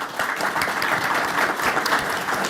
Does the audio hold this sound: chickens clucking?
no